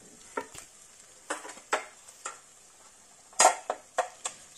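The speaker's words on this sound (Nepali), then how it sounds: "अब एकछिन फ्राई गर्नुपर्छ फेरि।" Coriander seeds frying in a pan for a curry leaf chutney are stirred with a utensil, making irregular scraping clacks over a faint sizzle, with no talking.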